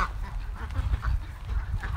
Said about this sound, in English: the Canada geese are right there. The goslings.